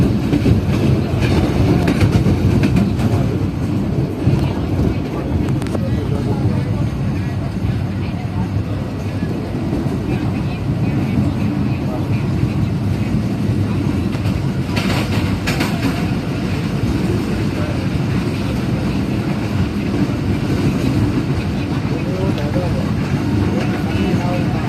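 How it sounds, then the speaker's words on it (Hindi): Shah Hussain Express train racing through Shorkot Junction station in Pakistan, a steady loud rumble of wheels and carriages throughout, with faint voices in the background. "हमारी ट्रेन काफ़ी अच्छी स्पीड में स्किप कर रही है शोरकोट जंक्शन रेलवे स्टेशन को"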